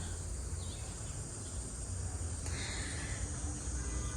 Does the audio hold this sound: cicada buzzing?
yes